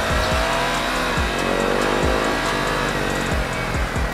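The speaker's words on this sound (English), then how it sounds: "With the R15 exhaust, that sounds so good." A high-revving Yamaha R15 V3 sport motorcycle exhaust roars close by on EDSA, pitch climbing and dropping repeatedly as it shifts through gears at speed.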